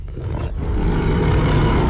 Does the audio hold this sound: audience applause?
no